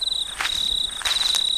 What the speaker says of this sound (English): you can hear all the crickets going